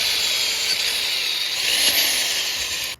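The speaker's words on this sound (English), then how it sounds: "We're gonna drill 2 pilot holes through those holes." A small drill bit bores pilot holes through existing holes while fitting a side ladder accessory to a Honda Element, giving a steady, close, high-pitched whine that runs unbroken for about three seconds before cutting off abruptly.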